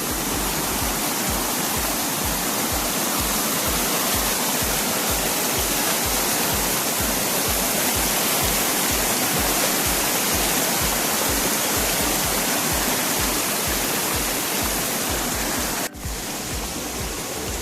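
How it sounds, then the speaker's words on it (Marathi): Stream water rushing loudly and continuously around someone wading through it at night at Bhandardara in the Sahyadri hills, a dense, close roar that cuts off sharply near the end. "पूर्ण पाण्यातनं रस्ता काढत चाललोय"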